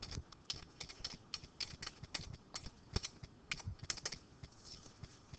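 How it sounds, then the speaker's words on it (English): Rapid keystrokes clatter on a computer keyboard while a title is typed, an irregular run of close, crisp clicks with no talking. "and type the title"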